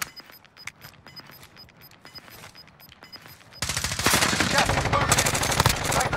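Automatic weapon fire in Call of Duty Warzone, starting as sparse distant cracks and then bursting into loud, sustained rapid shooting up close for the last few seconds.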